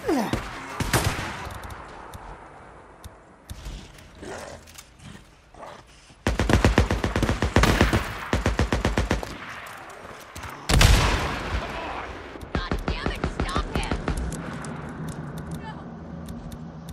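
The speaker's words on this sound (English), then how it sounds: "Somebody shoots back." Gunfire rings out in a Days Gone video game gunfight at a railway ambush camp, loud bursts of rapid automatic shots and single cracks repeating across the stretch, with brief gaps between volleys.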